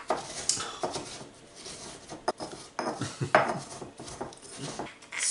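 Digestive biscuits are crushed in a container, giving a close, continuous crunching and grinding with scraping rasps and small clinks throughout.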